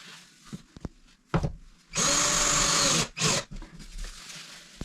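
A power drill bores pilot holes into dry wood, with a loud whirring burst lasting about a second, a brief rev, and short spins before and after, close by with no talking.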